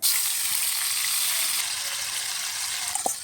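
Cumin seeds and a spice mix hit hot oil in a pan, giving a steady, close hiss of frying that runs evenly throughout, with a faint clink near the end.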